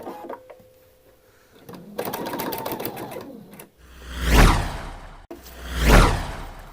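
Sewing machine stitching a skirt side seam: a stuttering run of needle clatter, then two loud rising-and-falling whirring bursts of the motor running, close and alone.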